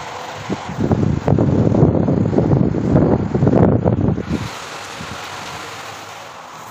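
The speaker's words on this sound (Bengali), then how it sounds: "এত পরিমাণে বৃষ্টি হচ্ছে কি বলবো" Heavy rain falls outside a house, a loud, steady rushing hiss that lasts several seconds before dropping abruptly to a quieter background patter, with no voices.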